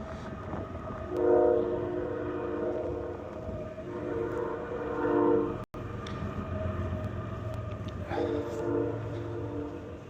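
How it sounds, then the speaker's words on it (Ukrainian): A train rolls past in the distance on a snowy day, its low rumble steady throughout with a horn or whistle sounding in sustained tonal blasts, pausing briefly and returning. "Чуєте потяг? Його зараз дуже добре чути, коли сніг лежить."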